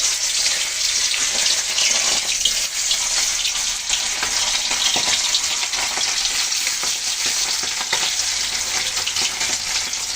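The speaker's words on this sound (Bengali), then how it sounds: "এখন আমি ইলিশ মাছের এই লেজগুলো ভেজে নিচ্ছি" Hilsa fish tails frying in hot oil give a loud, dense, continuous sizzle with fine crackling, close up and unbroken, with no voices over it.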